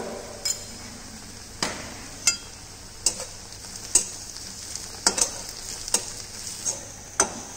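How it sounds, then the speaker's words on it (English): Turmeric, red chili, garam masala and cumin powders sautéing in a pan, a soft steady sizzle punctuated by a dozen or so sharp metallic spoon taps and scrapes at irregular intervals. "Just saute for a while, then we will add chopped tomatoes into it."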